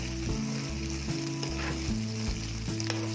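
Singapore chilli crab sauce sizzles and crackles in a hot pan as it is stirred, with a steady frying hiss broken by rhythmic scraping strokes of the utensil, close and fairly loud.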